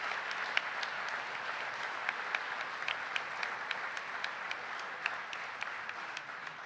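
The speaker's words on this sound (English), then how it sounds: "Keep that round of applause going for these wonderful seniors" Audience at a spring high school band concert applauding the graduating seniors, a sustained even wash of many hands clapping with sharp individual claps poking through, steady from start to end with no talk.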